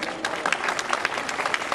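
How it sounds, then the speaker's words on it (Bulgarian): Enthusiastic applause from a crowd at a political party event, steady dense clapping with sharp individual claps standing out throughout. "Бурни аплодисменти за Андрей Ковачев!"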